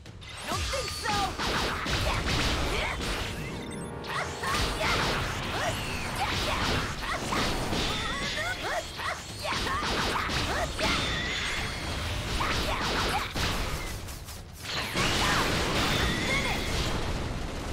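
Terrain is smashed in a Dragon Ball Z Kakarot fight, with dense, continuous crashes, whooshes and impacts that stay loud throughout.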